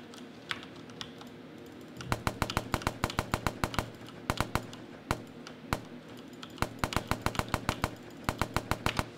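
Gunfire effect from a gun muzzle in a game engine, sharp rapid bursts of automatic shots in clusters separated by short pauses, over a faint steady background hiss.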